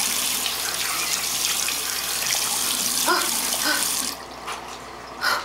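Water runs steadily from a tap at a sink while something is washed off, a loud continuous splashing rush that cuts off near the end, leaving a few faint drips and handling noises.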